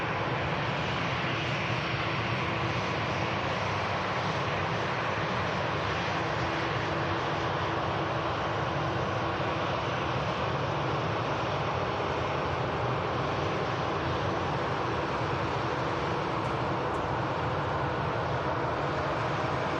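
Jet aircraft noise at Manchester Airport as a Qatar Boeing 787 pushes back, a loud, broad, constant engine roar and rumble lasting the whole stretch without a break, with no talk.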